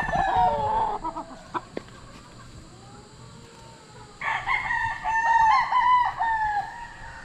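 A stag rooster crows loudly nearby, one long drawn-out call after a few clucks, with no talking.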